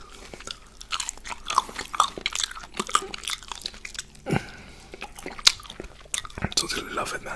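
Shrimp cocktail eaten up close, with crisp bites and wet chewing that come in irregular bursts, some sharp crunches standing out, over a quiet background.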